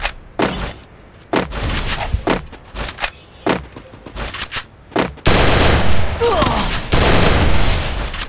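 Close, loud gunfire in a shooting video game, several sharp bursts of rapid shots separated by short gaps, then a sustained stretch of heavy continuous firing.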